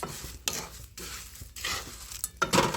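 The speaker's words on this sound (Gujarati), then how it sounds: "પૌવા પણ આપણે હલાવી નાખશું" A spoon stirs corn poha flakes in a pan, making repeated scraping, rustling strokes at a quick, uneven rhythm, close and fairly quiet, with no talking.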